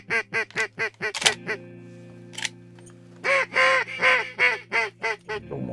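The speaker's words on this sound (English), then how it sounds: "These are definitely new ducks," Ducks quack during a greenhead duck hunt on Golden Pond. A close, loud run of rapid quacks is followed by a quiet gap, and then another lively series of quacks and honks.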